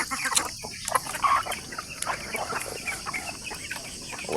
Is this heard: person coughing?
no